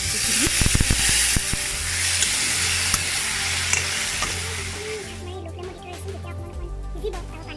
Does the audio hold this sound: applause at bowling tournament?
no